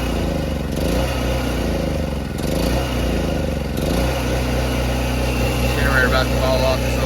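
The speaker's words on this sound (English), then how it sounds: "Generator about to fall off this little bucket I got it on." A portable generator runs steadily at close range with a constant low engine drone, perched on a small bucket in an off-grid 12-volt shop setting, with brief shifts in load and a voice speaking over it.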